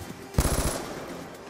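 A burst gun in Call of Duty: World at War fires a quick rapid volley of several sharp shots, loud and close, then the tail fades out.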